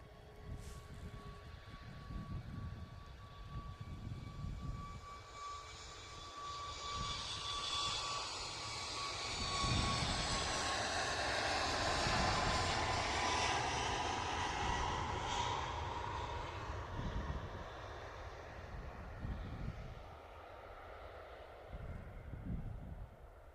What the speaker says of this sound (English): Okay, next departure. Good old Ryanair. Off to Alicante. It's a Max.